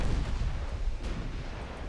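Six-inch naval guns firing in the warship game Ultimate Admiral Dreadnoughts, a dull, rumbling artillery boom that trails off over about two seconds, quiet and heard alone.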